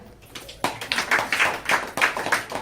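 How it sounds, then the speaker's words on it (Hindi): A church congregation claps for a man during a Hindi-language worship service, giving a burst of irregular hand claps after a brief quiet start that carries on steadily to the end. "ये मेरे भाई के लिए ताली बजाएं।"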